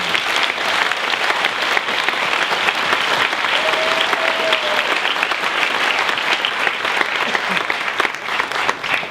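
Steady, loud applause from a large audience, continuous clapping filling the whole stretch.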